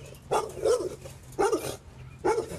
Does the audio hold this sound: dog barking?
yes